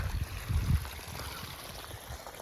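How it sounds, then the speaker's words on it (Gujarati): Irrigation water runs through a cotton field in a brief, close, steady low gurgle and trickle. "જો અહીંયા પાણી હાલે છે કપાસમાં"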